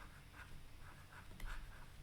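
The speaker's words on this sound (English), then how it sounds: "I'll write it down." Marker or pen writing out a quadratic formula on a board, soft rhythmic strokes and squeaks repeating through a quiet room, with a slightly louder stroke near the end.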